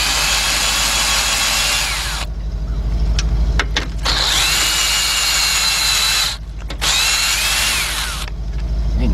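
Cordless impact gun spinning out 8mm radiator bracket bolts on a 2001 Lincoln LS 3.0, loud close whirring bursts with short pauses between runs, no talking.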